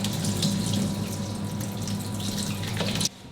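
Tap water pours steadily and loudly into a sink for about three seconds, then cuts off abruptly, leaving near silence; no one speaks.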